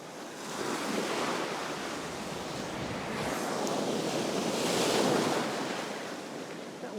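Wind gusts steadily across a sea shore during a fishing trip, a broad continuous rush that swells and eases with surf mixed underneath, buffeting the microphone close up, with no talking.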